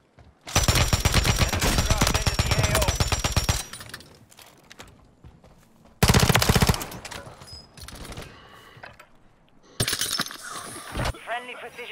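Call of Duty gunfire roars in long, loud automatic bursts, broken by quieter gaps, then returns with more rapid firing and clattering, scattered impact noises close by.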